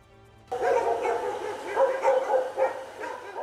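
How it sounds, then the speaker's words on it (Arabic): Stray dogs bark and yip across a city neighbourhood, a cluster of repeated barks and whimpers that starts suddenly and continues at moderate distance, loud and uneven. "على وقع نباح الكلاب تصبح غالبية أحياء المدينة وتمسي"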